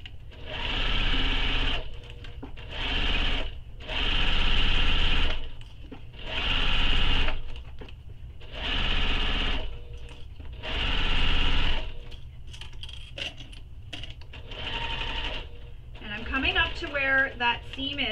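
Sewing machine stitching a fabric tote bag in repeated bursts of a few seconds each with short pauses between, fairly close and clear, with brief clicks and handling near the end.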